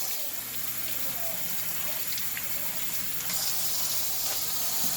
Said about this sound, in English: Make sure you rinse them leaves off real good.